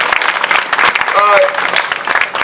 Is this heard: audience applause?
yes